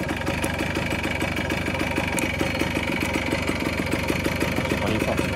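A 1975 Kawasaki 125cc motorcycle engine runs steadily at idle, a close, even mid-pitched putter of rapid regular firing pulses continuing throughout without clear speech.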